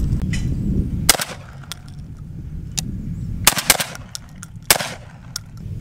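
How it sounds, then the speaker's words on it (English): Several sharp, loud shotgun blasts from a Beretta 1301 Tactical firing buckshot, irregularly spaced with two closely paired shots, over steady outdoor background rumble. "let's try some buckshot this time,"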